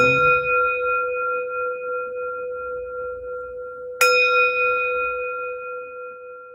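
A meditation bell rings clearly at the close of a session, its long pure tone fading slowly before a second strike rings out again and sustains into a gentle decay, heard alone with no voices.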